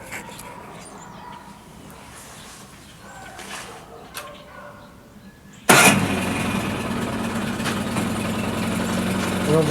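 A Mercury 9.9 hp outboard motor on a lake fires up abruptly partway through after a quiet stretch with faint background sounds, then runs steadily and loudly at idle.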